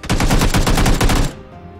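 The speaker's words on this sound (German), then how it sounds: "Schieß von oben, du kannst ihn machen, Will" Automatic weapon fire in the battle royale video game PUBG, a loud, dense stream of rapid shots lasting over a second before cutting off sharply, with no talk over it.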